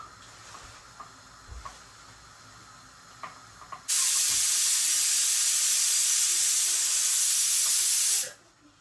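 A loud, steady hiss of steam bursts from a pressure cooker and runs for about four seconds, then cuts off abruptly; faint clinks and quiet background sounds come before it.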